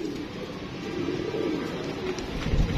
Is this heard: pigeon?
yes